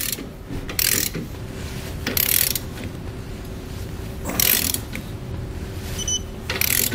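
A ratchet wrench torques the nuts on replacement U-bolts for an 8,000-lb trailer axle, giving several short bursts of rapid clicking with pauses between them, close and moderately loud with no talking.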